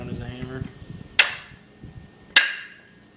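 Two sharp knocks of a homemade camera mount part struck against the ground, spaced about a second apart, each a bright close impact with a short ringing tail, after a brief moment of speech.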